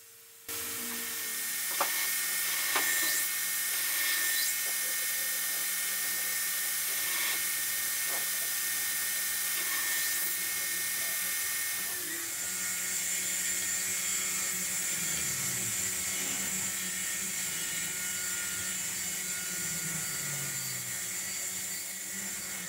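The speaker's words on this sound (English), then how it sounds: "These are 3M Cubitron belts, 36 grit. They really hog steel." A belt grinder running 3M Cubitron 36 grit belts grinds knife steel, a steady loud whining hiss with shifting pitch as the blade is worked, broken by brief changes in contact pressure.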